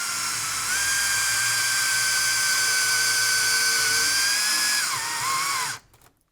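A tiny chainsaw's small high-pitched motor whines steadily near the mic, its pitch holding then dipping before cutting off abruptly at the end.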